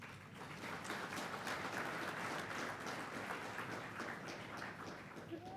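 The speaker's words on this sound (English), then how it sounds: "Ladies and gentlemen, the champions deserve a round of applause." Steady applause from a large audience in a conference hall at an energy-sector high-level corporate dialogue session, a dense even clatter of many hands held throughout at moderate distance, with no speech over it.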